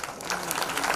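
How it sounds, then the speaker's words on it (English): A conference audience at an annual business event claps to welcome a speaker, a brief burst of dense, even applause. "A huge round of applause, please"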